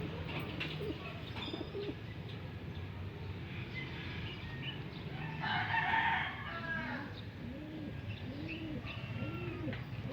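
Pigeons coo softly in a repeated rhythmic pattern, with a brief burst of higher bird chatter in the middle; quiet and close.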